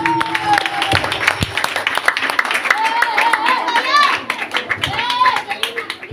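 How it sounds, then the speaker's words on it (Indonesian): An audience at a school quiz competition claps for all the competing teams, a brisk, uneven patter of hands mixed with children's voices chattering close by. "Beri tepuk tangan untuk semua regu."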